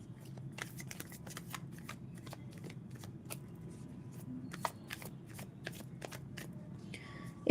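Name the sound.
shuffling tarot cards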